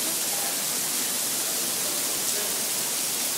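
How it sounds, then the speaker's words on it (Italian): Niagara Falls roaring in the rain: a constant, loud wash of falling water that fills the whole clip without letting up, with no clear talk over it. "Qua siamo alle cascate del Niagara."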